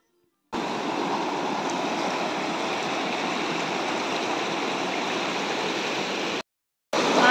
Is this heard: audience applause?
no